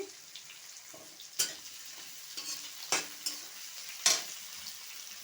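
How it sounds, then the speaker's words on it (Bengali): Chopped onion and garlic go into hot tempered oil in a pan, a soft, quiet sizzle broken by a few sharp clattering strokes of a stirring spoon, with no one talking. "এখন আমি এই যে পেঁয়াজ কুচিটা দিয়ে দিচ্ছি রসুনটাও দিয়ে দিচ্ছি"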